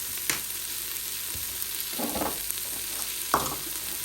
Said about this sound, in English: I'm just waiting on the onion just to saute a little bit more